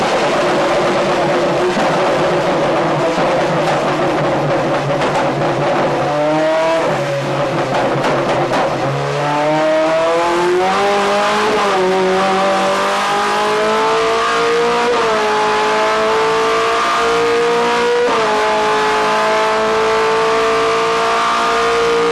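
Toyota GT-One 1998 race car with a V8 engine revving loudly and continuously, its pitch climbing through repeated rising sweeps as the engine is pushed hard, close and sustained with no talk.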